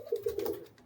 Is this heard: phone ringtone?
no